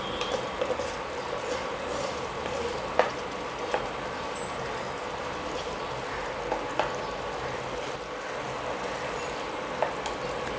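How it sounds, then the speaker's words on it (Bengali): Tomato and onion paste sizzles in hot oil in a pan, cooked for a green pomfret fish dish: a continuous, fairly quiet frying hiss broken by a few sharp pops and spatters. "আমি এই টমেটো পেঁয়াজ পেস্টটা দিয়ে দিচ্ছি"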